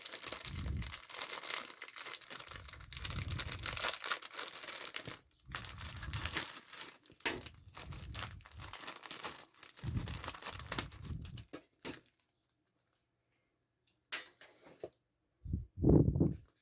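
Plastic packaging for LEGO Millennium Falcon metal hull pieces is crinkled and torn open in long, loud, continuous rustling, followed by a quiet pause and a few final crackles.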